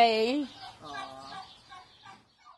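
Small white chickens cluck and gobble close by in a few short, throaty bursts that fade toward the end.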